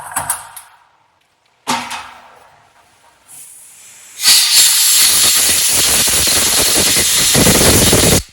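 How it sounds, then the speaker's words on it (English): Aerosol brake cleaner sprayed into a flywheel bolt hole on a 1968 El Camino: two short bursts of hiss, then a long, loud, continuous spray lasting several seconds before it cuts off. "I have some brake cleaner here. I'm going to clean that out really good."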